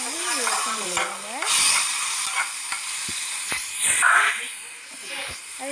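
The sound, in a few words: onions sautéing in a pan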